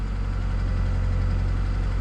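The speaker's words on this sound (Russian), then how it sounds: "Двигатель работает с перебоями." A car engine idles roughly and misfires, a steady low rumble with uneven pulsing throughout, close to the microphone and with no voices.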